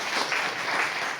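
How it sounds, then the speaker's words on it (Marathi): An audience at a Marathi poetry book launch applauds a poet, a brief burst of dense, steady clapping from a hall crowd with no voices. "एकदा कांचनताईंसाठी खरंच पुन्हा एकदा जोरदार टाळ्या झाल्या पाहिजे."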